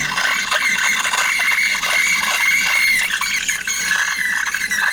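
An espresso machine steam wand screeches loudly and continuously as it steams milk for a café mocha, a harsh, high, squealing hiss that stays close and constant with no voices over it.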